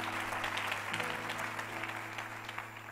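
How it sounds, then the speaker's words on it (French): A church congregation applauds in praise of the Lord, a steady wash of clapping from many hands over a low sustained musical drone, fairly even throughout and slightly fading toward the end. "Je vais acclamer le Seigneur."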